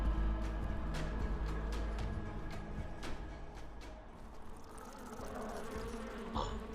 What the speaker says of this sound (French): Ils vont être chiants ces moustiques.